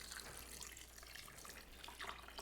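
Hot potato water, kept from boiling potatoes, pours into a pot of potato soup with ham as a soft, continuous splashing trickle, faint and close, with no voices.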